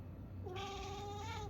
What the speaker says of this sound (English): That's my cat. It's Pepper.